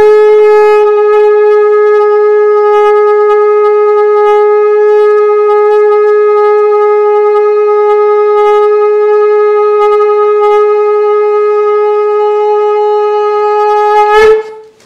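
A shofar, a ram's horn trumpet, is blown during a sermon in one long, loud, steady, unbroken note lasting about fourteen seconds, ending with a brief sharp upward blast.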